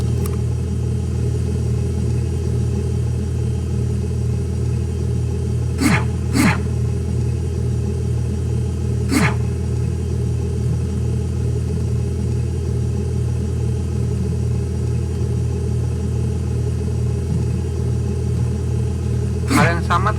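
An automated cake sorting machine runs after being started, giving a steady, loud mechanical hum with a few sharp clicks or clacks scattered through it.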